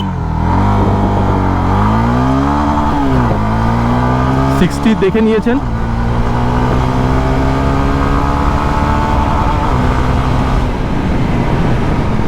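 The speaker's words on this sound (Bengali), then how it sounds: "আচ্ছা এইবার এখানে এটার যে অ্যাক্সেলারেশন ওটা টেস্ট করি" A 2024 Honda CB300F motorcycle pulls away hard in first gear, its engine note climbing steadily in pitch, dropping at a shift and rising again, loud and close throughout, with a voice speaking briefly over it.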